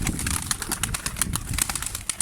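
A yellow pigeon coos while its wings flap in sharp repeated bursts close by, the soft cooing running under the quick slaps of feathers with no talk.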